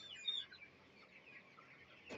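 Chicks or hens clucking in a poultry setting during machine beak trimming, soft and fairly faint, with a slightly louder call near the start and a brief rise at the end.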